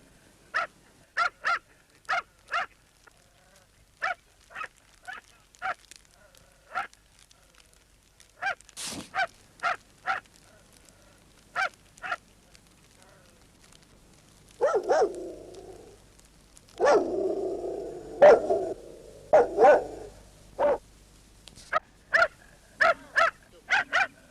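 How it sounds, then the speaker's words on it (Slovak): Dogs bark repeatedly in short bursts across a quiet rural valley in the Slovak Polonina hills at dusk, sounding fairly distant and echoing, with a few whimpers and a brief stretch of low background rumble in the middle. "Štekot psov sa nesie dolinou, ktorá sa stala známou svojou biedou."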